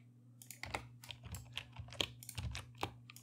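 Computer keyboard keys clatter in quick uneven bursts at close range, with a few firmer strokes like the enter key being pressed, over a steady low hum, with no talking.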